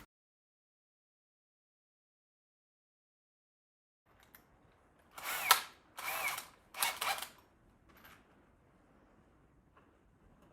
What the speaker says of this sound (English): now I'm going to drill out my middle one